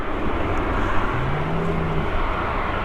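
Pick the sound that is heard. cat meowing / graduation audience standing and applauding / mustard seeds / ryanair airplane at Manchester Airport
ryanair airplane at Manchester Airport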